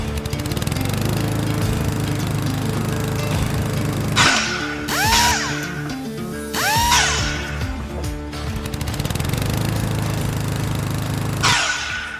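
A power saw idles loudly and then bites into pine stock twice, each cut a surging whine with a drop in motor pitch, followed by the motor running on; no voices.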